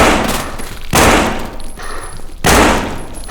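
Gunfire in the zombie video game No More Room In Hell: three loud, sharp shots spaced about 1.5 seconds apart, each with a ringing decay, and no talking.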